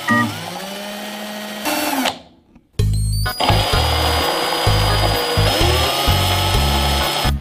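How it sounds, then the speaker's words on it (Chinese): A power drill bores into the bottom of a ceramic jar, grinding loud and steady in several bursts separated by a short pause. "准备一个陶瓷缸，底部需要钻一个洞"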